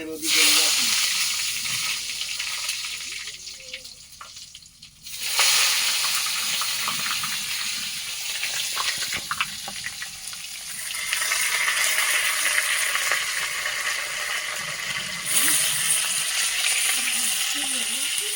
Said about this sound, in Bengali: এই বেগুনগুলো আমি আগে ভেজে নেবো সুন্দর করে